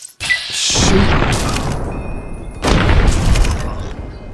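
Gunfire in the video game Tale of Two Wastelands: two heavy, booming bursts of shots, the first sustained for over a second and the second following shortly after, loud and close.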